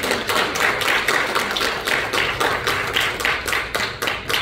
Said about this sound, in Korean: 여러분 박수 한번 다시 부탁드립니다.